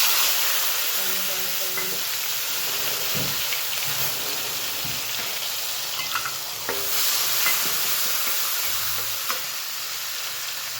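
Cumin seeds and a pinch of asafoetida sizzle steadily in hot oil for a dal and bottle gourd dish, a dense continuous crackle with occasional stirring knocks, close and loud, with no talking.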